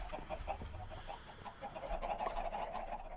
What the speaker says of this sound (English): I don't remember there being chickens in the house.